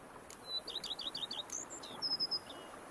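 Small birds chirp and tweet in quick repeated high notes, then a short trill, faint over a soft ambient bed in the countryside setting of The Witcher 3: Blood and Wine video game, with no talking.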